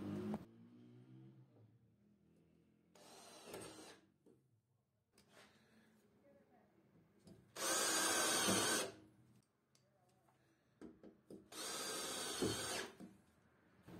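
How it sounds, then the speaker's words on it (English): Bursts of a power tool driving screws to fasten terminal rails in an industrial electrical panel, several short whirring runs with two louder, longer ones, close and clear over a quiet room. "Make sure that we fasten the rails with 3 or 4 screws."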